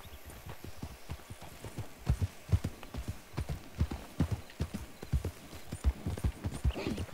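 Horse hooves clip-clop in a steady walking rhythm in a western-style video game, close and fairly soft, with a few faint background sounds.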